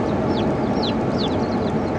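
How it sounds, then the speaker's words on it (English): A brooder crowded with baby chicks cheeping nonstop, dozens of high, quick chirps overlapping into a dense, steady chatter that sounds close. "Lots of little cheep cheep cheeps."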